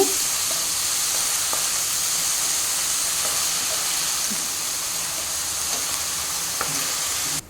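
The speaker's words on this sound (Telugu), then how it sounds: "ఇది గోల్డెన్ బ్రౌన్ కలర్ వచ్చే వరకు వేయించాలి" Finely chopped onions frying in oil toward golden brown for Mughlai chicken curry: a steady, close sizzle and hiss with occasional light pops and stirring clicks, alone without talk.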